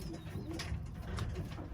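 Birmingham Roller pigeons coo softly in a breeding loft, a couple of low murmuring calls close by over a faint background rustle.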